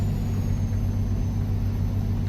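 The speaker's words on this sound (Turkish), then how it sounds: "kontak sesi de değişmiş gibi değil mi?" A truck engine with double trailers rumbles low and steady in a video game, idling without change for the whole stretch, with no voices over it.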